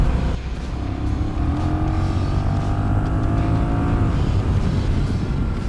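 A Honda Rebel 1100 DCT motorcycle engine accelerating on an open road, a steady rising drone with audible gear-shift dips, loud and close, with wind noise throughout.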